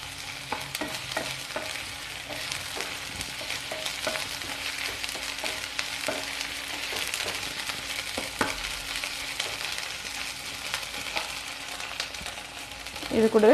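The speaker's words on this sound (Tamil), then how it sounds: "இப்போது இஞ்சி பூண்டு பேஸ்ட்டு போட்டுக்கலாம்" Ginger garlic paste frying in a pan for a black chana kadala curry, a continuous close sizzle with scattered clicks of the stirring spoon and a louder clatter right at the end, no talk.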